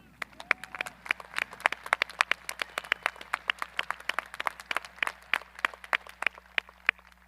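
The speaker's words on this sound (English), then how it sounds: "Let's give them a round of applause." Audience applause at a high school graduation ceremony, a steady run of crisp individual claps from a modest crowd that keeps going for several seconds with no talk over it.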